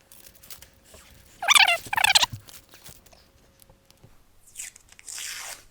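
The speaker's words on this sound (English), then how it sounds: "So this is just an acrylic bezel, and it's got this masking tape. So let's go ahead and take that off." Masking film is peeled off an acrylic bezel in two short, loud ripping bursts close up. Quieter rustling and crinkling of the film follow.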